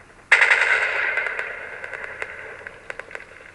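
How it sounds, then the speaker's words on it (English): A TNT cannon fires in the Minecraft video game: one sharp, loud burst that is followed by a decaying crackly rumble and several fainter pops trailing off. "Just to shoot TNT."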